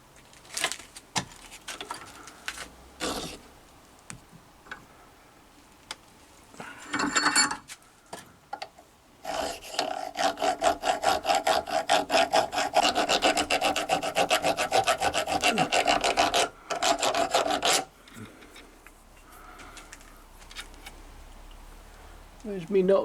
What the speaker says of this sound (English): I'll get a thread file and we'll clean all that thread up